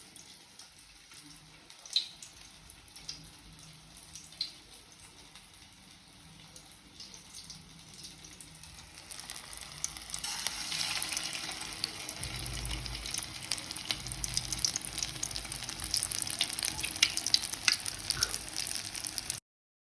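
Bread mixed with turmeric, chilli and salt fries in a pan, a faint hiss that swells into a louder, steady sizzle with scattered pops partway through.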